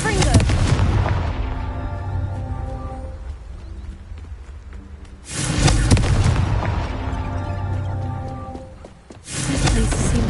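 Confringo fire spells exploding in Hogwarts Legacy: three loud, booming blasts, each with a long rumbling decay, one at the start, one midway and one near the end.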